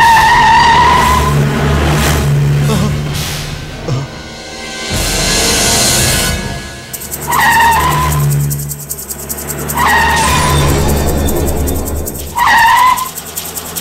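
A car pulls away with its tires skidding, giving loud engine and road noise broken by repeated sharp squeals over several seconds, with no voices.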